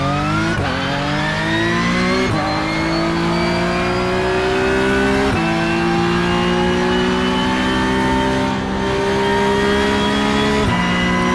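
Race car engine in the iRacing sim revving hard and steadily, with rising pitch sweeps and sharp drops at each gear shift, loud and continuous throughout.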